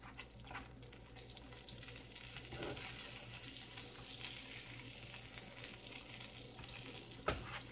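Chicken nugget cheese toast frying in a pan gives a steady, moderately loud sizzle throughout, with a brief louder scrape or bump near the end as it is flipped.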